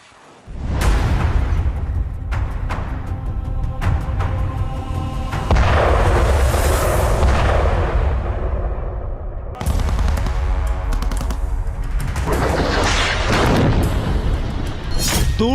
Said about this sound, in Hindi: गोले बरसाते टैंक